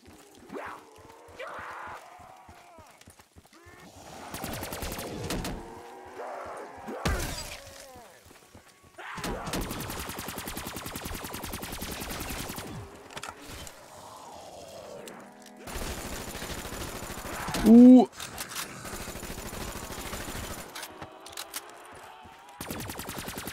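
FFAR assault rifle fire in Black Ops 3 Zombies, rapid automatic bursts repeating in several long stretches, mixed with game effects, thuds and someone talking between volleys.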